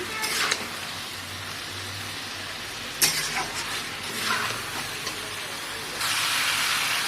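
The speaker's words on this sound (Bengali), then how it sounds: "এখন এই কষা করছি" Spice masala sautés in oil with a crackling sizzle, while a spatula scrapes and stirs at intervals and bursts of louder hissing come and go.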